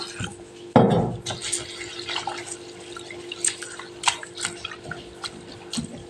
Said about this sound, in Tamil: இப்போ அவளை வாஷ் பண்ணிடலாம்